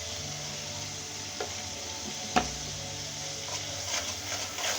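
Turmeric powder, chili powder and salt hit a hot pan with chicken and sizzle in a steady frying hiss, with a few sharp clicks of stirring and one loud clack near the middle.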